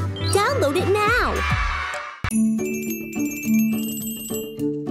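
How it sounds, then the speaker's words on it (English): Colorful Christmas bells in a children's cartoon ring out as bright, sustained metallic tones after an animated character's lively voice, the bell notes layered and chiming together. "Let's play with the colorful Christmas bells."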